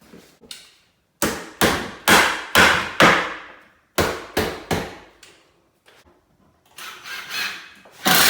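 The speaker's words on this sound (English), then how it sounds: "Whoever said that a drill can't be a hammer?" A drill used as a makeshift hammer strikes wooden trim during mobile home floor and window trim repair, giving sharp, loud knocks in bursts of three to five evenly spaced blows separated by short pauses, with no talking.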